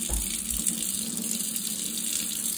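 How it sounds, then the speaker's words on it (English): Water runs from a kitchen sink tap into a bottle in a steady, even hiss that sounds close and unbroken, with no talking. "You fill this pot up with water, which we'll do right now. Go over to the sink."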